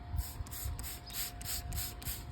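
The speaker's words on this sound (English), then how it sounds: "I'm going to go ahead and spray. And I'm just going to get it really, really wet." Repeated short hissing bursts from a pump sprayer wetting plant leaves, about seven quick spritzes in a steady rhythm, fairly faint against a quiet background.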